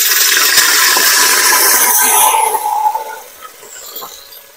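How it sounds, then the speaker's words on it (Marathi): A local village cucumber being grated by hand for a Malvani steamed cucumber cake, a steady, loud, rasping scrape for about three seconds that then trails off into quieter, scattered scraping. "तर या आता तवसा असा किसलाला तर मी हा चरकन बघा कसो आवाज येतलो"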